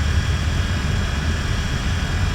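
Twin engines of a Cessna T-50 Bobcat running up with propellers pushed to full in a flight simulator, a loud, steady, close drone with no pauses.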